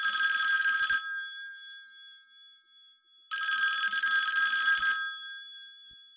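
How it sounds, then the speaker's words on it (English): A purple Stingray-style telephone rings in two bright electronic bursts of about a second each, separated by a two-second pause, close and clear with no voices. "the purple Stingray phone rings"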